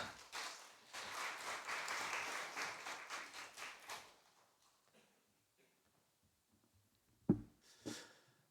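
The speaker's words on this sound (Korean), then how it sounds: "우리 박수로 모시겠습니다." Church seminar audience clapping to welcome a speaker, a steady burst of applause for about four seconds that fades, followed by a couple of isolated knocks.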